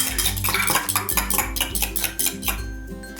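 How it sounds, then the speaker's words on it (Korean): Eggs seasoned with a pinch of salt and pepper are whisked briskly in a bowl, a fast rhythmic series of clattering utensil strokes against the dish, close and steady. "계란에 소금, 후추를 한 꼬집 넣어 잘 풀어주세요."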